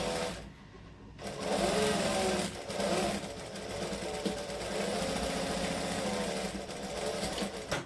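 A sewing machine runs at a slow, steady pace, stitching a shirt seam an eighth of an inch from the fold, its continuous motor hum and needle chatter filling the clip after a brief pause near the start.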